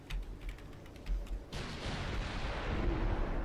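Battleship guns fire in the naval game Ultimate Admiral Dreadnoughts: a few muffled thumps come first, then a heavy broadside erupts into a loud, sustained rumbling roar.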